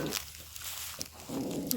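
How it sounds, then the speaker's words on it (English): A dog barks in brief, somewhat distant bursts at the sound of people nearby, with faint background noise between the barks. "which is just Rocky barking at Mark and Ellie, who are doing the rounds"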